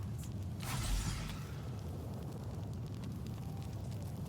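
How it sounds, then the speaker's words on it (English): Roaring in-game fire burst in The Outer Worlds, a loud broadband whoosh swelling in the first second and a half, then settling into a steady low crackling rumble that continues throughout. "Holy hell, this fire effect is strong"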